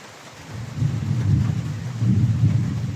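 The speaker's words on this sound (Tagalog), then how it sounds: "Lakas ng kulog." Thunder rumbles low and heavy in two swelling rolls during a thunderstorm, with heavy rain hissing steadily underneath.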